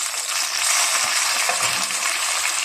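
Tomatoes hitting hot oil in a frying pan with ginger already cooking, a loud, close, continuous sizzle and crackle that holds steady throughout with no talk.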